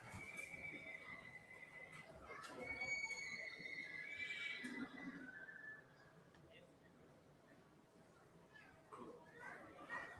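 A ten-year-old buckskin gelding whinnies at a horse sale, a few high, wavering calls over a few seconds, moderately close against a busy background murmur.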